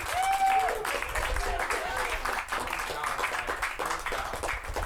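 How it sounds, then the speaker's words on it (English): A small improv comedy audience gives a performer a round of applause after a scene, with a brief whoop at the start and steady moderate clapping mixed with crowd voices and chatter throughout. "All right, a round of applause for John."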